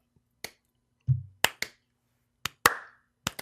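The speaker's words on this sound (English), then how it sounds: "It's gotta be slow clap." A handful of single hand claps, spaced slowly and unevenly, sharp and close against silence.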